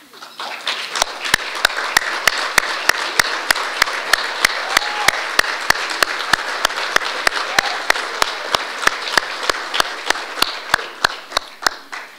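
Audience applauding the spouses of deceased veterans' association members as they stand, a steady wash of clapping across the room with sharp rhythmic claps cutting through, sustained throughout.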